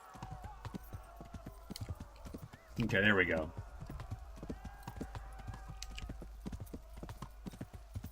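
Horse hooves clip-clop in a steady galloping rhythm in the Kingdom Come: Deliverance video game, broken briefly by a loud whinny, with someone talking over it.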